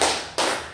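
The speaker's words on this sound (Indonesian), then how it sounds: "Tepuk 1, tepuk 2," A group in a positive-culture training session claps in a rhythm pattern: two sharp, loud, unison claps about a third of a second apart, each ringing briefly in the room.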